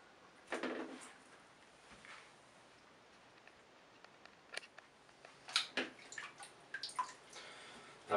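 A waterproof JVC Picsio GC-WP10 pocket video camera records while dunked in water, picking up muffled underwater sloshing, soft splashes and scattered dripping clicks that grow busier toward the end.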